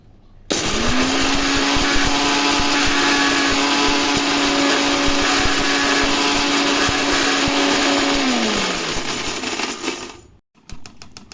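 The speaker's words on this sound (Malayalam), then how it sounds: "ഇനി നമുക്കിത് അങ്ങനെ പൊടിച്ചെടുക്കാം കേട്ടോ മിക്സിയുടെ ജാറിലേക്ക് ഇട്ടിട്ട് പൊടിച്ചെടുക്കാം" A mixer grinder powders dried beetroot in its jar, whirring loud and steady for about eight seconds with rattling grit inside, then winding down and stopping.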